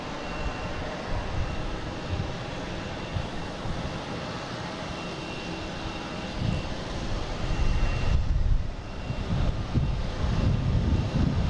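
A plane lands at Boston Logan airport, its engine roar a broad continuous rumble mixed with wind buffeting, swelling louder toward the end.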